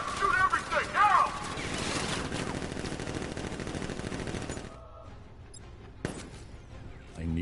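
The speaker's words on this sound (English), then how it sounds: "Open fire! Shoot everything, now!" Heavy automatic gunfire and explosive bursts ring out during a militia ambush in the video game Batman Arkham Knight, a dense roar that cuts off abruptly and leaves a brief lull before one more impact.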